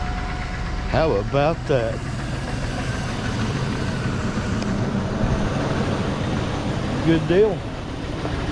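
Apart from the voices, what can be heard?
1999-2006 Chevrolet Silverado engine starting and idling after starter replacement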